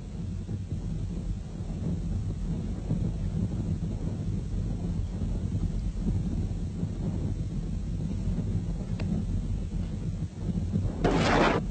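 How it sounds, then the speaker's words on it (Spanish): Falklands War combat footage carries a delayed-action retarded bomb falling and explosions: a continuous heavy, distant rumble runs throughout, swelling into a louder blast near the end, with no voices. "La cámara lenta permite observar la caída de una bomba de retardo delante del humo de otra explosión."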